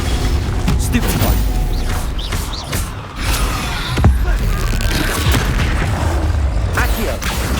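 Spell explosions and magical impacts in the game Hogwarts Legacy, with loud booms and crackling blasts in quick succession amid dense combat noise and shouted voices.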